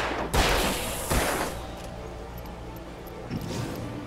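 Gunfire in the Alan Wake action game: two loud close shots a second apart, followed by a quieter rumbling tail and a faint later pop.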